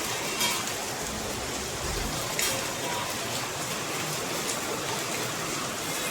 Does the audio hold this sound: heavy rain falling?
yes